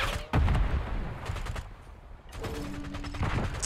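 Rapid bursts from a high fire rate AEK rifle in Call of Duty: Black Ops 6, a loud opening volley followed by further shots and mechanical clatter in gameplay.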